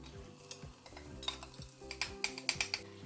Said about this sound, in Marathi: कांदा परतून घ्यायचा तेलामध्ये